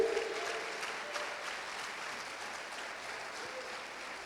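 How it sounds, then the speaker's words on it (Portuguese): A church congregation applauds steadily, a broad, moderate clatter of clapping that holds evenly throughout with no talk over it. "Aplauda e glorifica ao Senhor."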